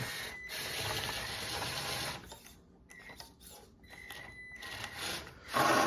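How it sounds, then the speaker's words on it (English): A Traxxas K10 RC rock crawler's wheel spins against a rock lip, giving bursts of whirring motor and grinding drivetrain noise that cut in and out in short stop-start pulses. "I can't get my wheel above that lip, so it's just spinning"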